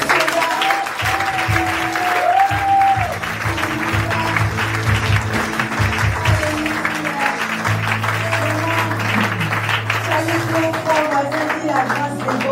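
A church congregation at a Sunday service bursts into sustained applause, many hands clapping in a dense, continuous wash that fills the room, with cheers and voices mixed in beneath it.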